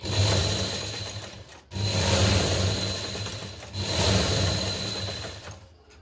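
A sewing machine stitches a blouse sleeve in three long runs of fast, steady mechanical whirring, each broken by a brief pause, close and loud with no voices.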